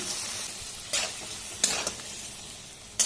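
Turmeric, cumin, coriander, chili powder and ginger paste sizzle in a pan with a splash of water while cooking down for an ilish fish-head and taro curry, a steady fry broken by a few sharp stirring scrapes.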